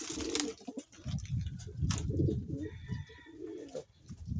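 Pigeons coo in low, throaty repeated calls, fairly close, with faint rustling and a few chirps around them.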